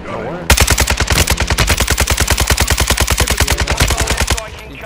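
Sustained automatic fire from an RPK machine gun in the shooter Warzone 2.0, a loud, steady stream of rapid shots lasting about four seconds, cut off abruptly at the end, with faint voices and game ambience around it.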